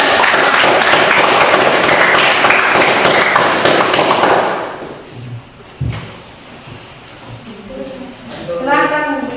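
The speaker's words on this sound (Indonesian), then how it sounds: "Beri aplaus buat kelompok" Classroom applause breaks out for a student group after a presentation, a dense burst of clapping for about four seconds that then fades into room noise, a thump and scattered movement.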